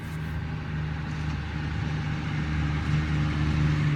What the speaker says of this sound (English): we're gonna wait for that loud ass car to pass by